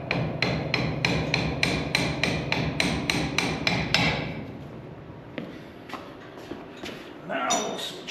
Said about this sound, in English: Let's just try a little hammer before we get too crazy.